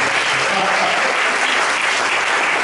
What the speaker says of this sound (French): Acclamons le Seigneur pour Madame Salomon.